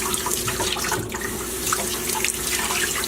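Tap water runs steadily into a sink while vegetables are washed under it, a close continuous splashing stream with small irregular drips and clatters on top.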